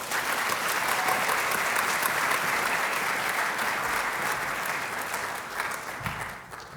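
An audience applauds to welcome a guest speaker at a university leadership speaker series, steady full-room clapping that holds evenly and then tapers off near the end, with no talking over it.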